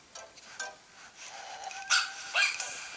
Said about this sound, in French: Ce chien est mignon comme tout.